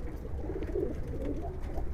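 Pakistani pigeons at a Bangladeshi pigeon farm coo softly amid low background rumble, with a murmur of several birds close by.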